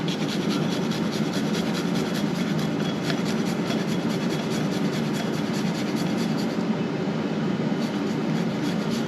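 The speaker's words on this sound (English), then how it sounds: "And then just got the grater." Food rubbed steadily against a hand grater, a continuous close scraping rasp running for several seconds without pause and without speech.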